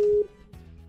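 A steady electronic telephone tone hums briefly during a call, then cuts off, leaving faint background noise with no speech.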